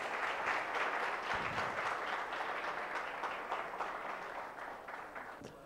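Applause from an audience honoring project competition winners at a prize distribution. Brisk, dense clapping sits close, then eases gradually toward the end, with a few individual claps still audible as it thins.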